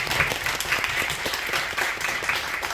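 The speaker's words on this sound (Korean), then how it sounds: "다시 한번 뜨겁게 박수로." Seminar audience at a church mission lecture gives a round of applause for the professor, a short burst of moderately loud, fairly sparse clapping from a modest group.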